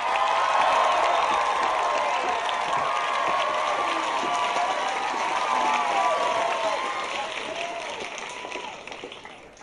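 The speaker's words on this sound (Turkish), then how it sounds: "alkışlıyoruz. Gavin Morgan'ı." Loud audience applause mixed with cheering and excited crowd voices, sustained across the whole stretch and tapering slightly toward the end, honoring performer Gavin Morgan at a show.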